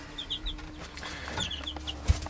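Hens cluck in a backyard coop near a feeder, giving several short bursts of clucks close by over a low steady hum, with one soft thump near the end.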